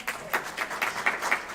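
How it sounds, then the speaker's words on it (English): A church congregation applauding during a service, steady scattered clapping from many hands at moderate distance, with no talk over it. "I love this applause"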